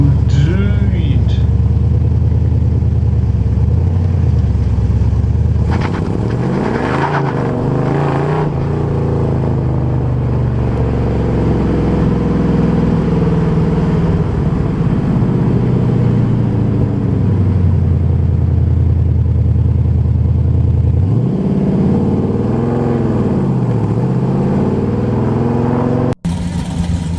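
Vintage 1960s and 70s V8 street machines drag racing, engines roaring and revving loudly with rising and falling pitch sweeps, a crowd voice briefly heard over the steady engine din.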